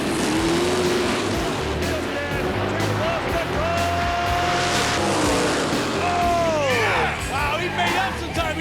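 A Camaro drag racing car launches hard at the track with a brief tire spin, engine howls rising and falling through gear changes amid crowd and track noise, with voices heard over the roar.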